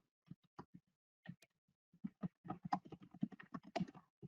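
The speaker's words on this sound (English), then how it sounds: "I have to keep typing." Keys on a computer keyboard are tapped in quick, uneven bursts at a library computer, with sparse clicks at first building into a denser run of typing, close and fairly quiet.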